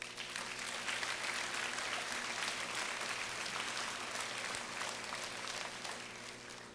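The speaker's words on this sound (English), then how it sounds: "I'd like you to give them a round of applause" Sustained audience applause fills a high school honors assembly in honor of the teachers, dense and steady clapping from a large crowd with no talk, slowly tapering toward the end.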